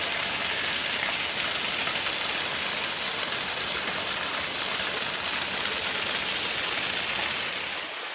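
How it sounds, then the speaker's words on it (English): Waterfall in Bankhead National Forest, Alabama, seen on a winter ice hike, gives a steady, loud, close rushing roar of falling water that holds evenly throughout with no voices. "Waterfall number 10, Bankhead National Forest."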